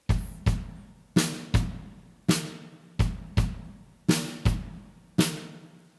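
An intercultural jazz trio plays a traditional ballady rhythm as a sparse pattern of loud, resonant drum strikes, each ringing out and decaying before the next, in an uneven repeating cycle.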